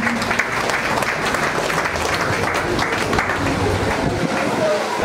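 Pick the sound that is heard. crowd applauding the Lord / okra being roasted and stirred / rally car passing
crowd applauding the Lord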